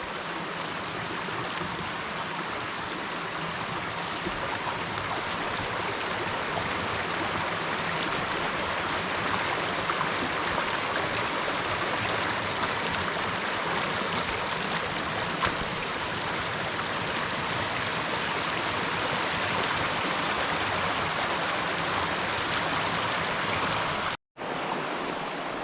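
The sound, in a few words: Buckhorn Run stream flowing near old mill dam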